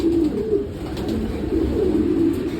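Racing pigeons in a loft, including young breeding birds, coo continuously in soft, low, rolling calls, close and steady.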